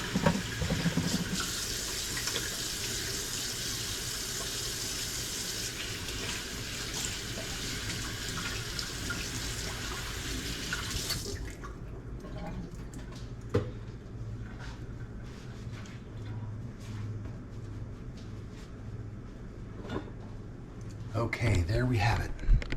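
Hands washed under a running kitchen tap after handling raw pork, with a steady, fairly loud rush of water for about half the stretch, then quieter splashes and handling sounds with a voice talking over it.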